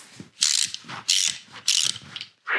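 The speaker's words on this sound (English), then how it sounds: "I kind of just like doing the ratchet thing." Three loud, close bursts of hand-ratchet clicking come as engine bolts on a 351 Windsor V8 are turned during a top-end teardown, with a shorter fourth burst at the end.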